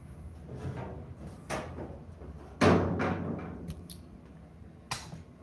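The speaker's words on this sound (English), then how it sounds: "Lambo doors." Lambo-style doors on a heavily modified VW swing open in a garage, making a few soft clunks, then one sharp latch-and-hinge thud, followed by a lighter click near the end.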